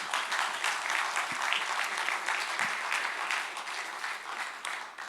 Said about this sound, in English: You can also clap. You can clap.